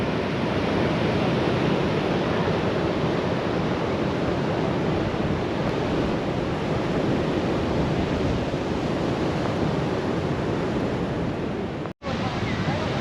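Steady roar of waves breaking on a Dorset beach in chilly festive weather, a continuous loud wash of surf blended with wind buffeting the microphone, cutting out briefly near the end.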